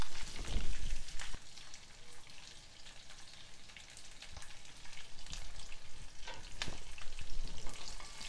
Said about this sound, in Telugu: ఇది కొంచెం వేగనివ్వాలి.